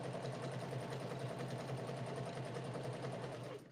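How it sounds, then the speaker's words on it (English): A sewing machine runs steadily, stitching fabric in one continuous close hum that cuts off near the end, with no talking. "Sew a little bit and then line some more up."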